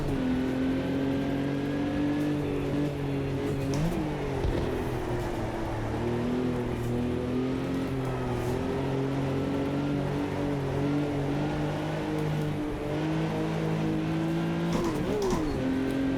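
A '74 Porsche 911 racing at Kyalami in the Automobilista 2 video game, its engine droning steadily at high revs with brief dips at gear changes, loud and continuous with no talk.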